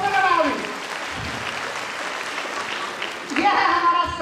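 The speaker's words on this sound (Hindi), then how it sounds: "वेरी गुड, जोरदार ताली" Sustained applause from an audience at a product training session, filling the middle of the clip between bursts of someone speaking at the start and end.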